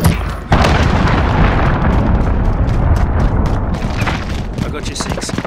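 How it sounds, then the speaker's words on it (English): A cruise missile strike in Modern Warfare lands as a loud, sustained rumbling explosion that fills the clip, with chaotic battle noise and shouted voices over it. "Enemy cruise missile!"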